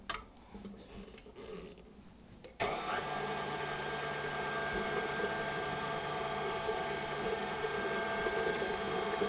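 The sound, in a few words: stand mixer with paddle mixing butter, salt and sugar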